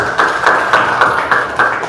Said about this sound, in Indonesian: Tepuk tangan untuk Anjani